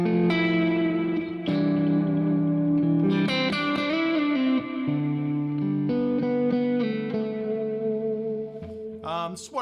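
Electric guitar played through a Fractal FM9 on its Lone Star amp model rings out in sustained, harmonically rich chords and notes with echo and reverb tails, loud and close with no talking, ending in a brief scrape.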